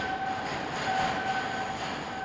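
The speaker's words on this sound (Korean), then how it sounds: "그곳을 향해 컴컴한 터널 속으로 케이블 열차를 타고 심해로 내려간다." A cable train rumbles steadily down the dark Seikan undersea tunnel, producing a constant dense roar with faint high tonal whine and no distinct breaks.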